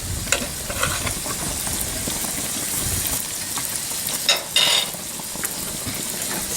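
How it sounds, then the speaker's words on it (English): Costco prime tri tip steaks sizzling on a grill while being basted with butter, a continuous crackling hiss with brief louder spatters near the end, no talk. "Still sizzling pretty good."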